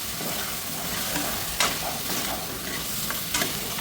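Onions go into goat intestine frying in its own rendered oil, making a loud, close, continuous sizzle with a few sharp bursts of stirring and scraping in the pan and no talking.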